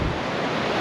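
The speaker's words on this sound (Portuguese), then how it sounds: "tem muito vento, os guarda-sol estão tudo balançando" Strong wind buffets the microphone on a beach in the Algarve, a dense, constant roar with surf mixed in, loud and unbroken throughout.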